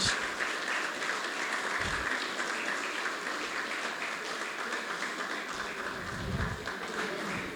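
Audience applause at a design mixer panel session, a dense, steady wash of many hands clapping for the full length, loud and continuous with no talk.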